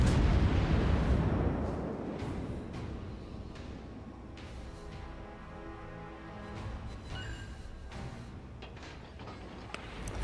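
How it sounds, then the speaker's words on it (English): Naval guns firing a volley in the World of Warships game: a heavy booming blast opens, and a long rumbling decay follows with scattered mechanical clanks and pops underneath. "As soon as he fires, I'm going to fire a volley, and then I'm going to stop."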